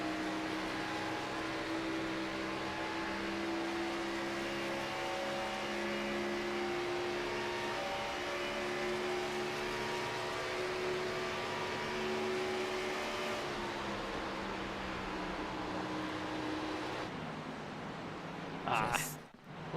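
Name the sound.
V8 stock car engines revving at high RPM, iRacing video game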